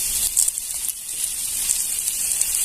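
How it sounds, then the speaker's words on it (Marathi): Cumin and mustard seeds crackle and sizzle in hot oil in a pan for a Marathi besan bhindi dish, a close, steady, bright hiss with small popping bursts. "याच्यात थोडेसे जिरे आणि मोहरी घालून घ्यायची छान अशी कडकडलेली आहे"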